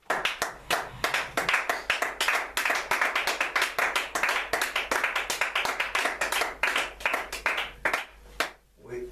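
A church congregation clapping in praise to God: dense rhythmic clapping from many hands, loud and continuous, fading near the end with no talk over it.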